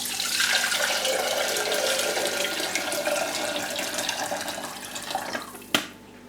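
Tap water gushes steadily into a kettle for several seconds, loud and close. The flow cuts off sharply at the end.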